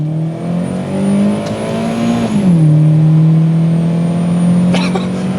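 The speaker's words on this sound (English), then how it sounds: "Typical Toyota bland 4-cylinder noise" A Toyota Starlet Glanza V turbo four-cylinder engine drones steadily and rises in pitch under acceleration, with a brief shift partway through, loud and close with a faint road hum.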